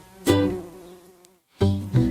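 A bee buzzes in a children's song, a sustained tonal drone with strong harmonics that fades out, pauses briefly, then returns loudly; it may be a sung or voiced imitation of a bee.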